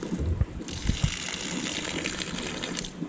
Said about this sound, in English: fill it full of water, get some good pressure on it